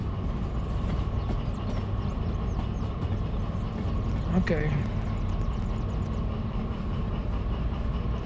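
A train rolls along the tracks in Derail Valley with a steady low rumble and hum throughout, loud and continuous, and a person speaks briefly over it.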